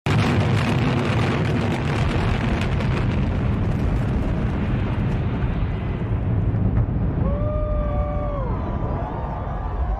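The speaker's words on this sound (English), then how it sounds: "Its 17-story hotel tower came tumbling down in a coordinated implosion." Coordinated implosion of the 17-story Aladdin hotel tower: a sustained, heavy rumbling roar of collapse fills the whole stretch, fading slightly as a gliding whistle rises near the end.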